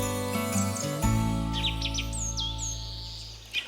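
A bird-song jingle plays over sustained musical tones, with bright chirps and tweets rising and falling, fairly loud and close, no voices.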